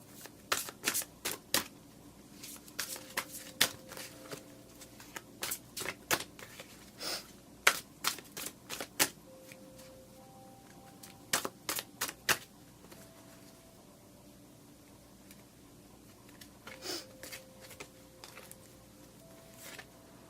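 Tarot cards are shuffled and drawn at close range in a quiet room: bursts of crisp riffling and flicking in irregular clusters, separated by short pauses, with no talking.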